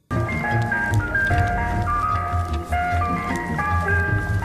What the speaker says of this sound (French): Un camion de sucette débarque avec une musique super creepy.